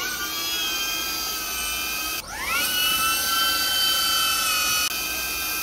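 DJI Avata drone propellers whirring while the drone descends, a steady high-pitched buzzing whine that sweeps up in pitch midway and then holds, moderately close with no talking.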